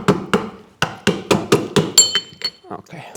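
The plastic handle of a screwdriver taps a carburetor cap on a 1978 Suzuki GS 550, a run of about ten sharp, close knocks in a fairly even rhythm, the later ones lighter with a slight metallic ring.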